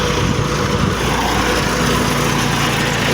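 A Massey Ferguson 285 tractor engine runs steadily up close, a loud, continuous buzzing drone with no pauses and no voices.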